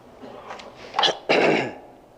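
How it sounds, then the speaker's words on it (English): A single voice clears its throat and then gives a short, forceful cough, close and fairly loud in a quiet room. "coughing and clearing my throat a little bit"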